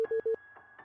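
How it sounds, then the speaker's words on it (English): Phone keypad dial tones as 911 is entered in the video game You and Me and Her: three short, clear beeps in quick succession, followed by a faint steady tone and softer blips. "Quickly dial 911."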